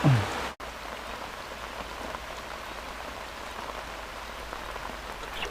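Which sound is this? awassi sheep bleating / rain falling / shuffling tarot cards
rain falling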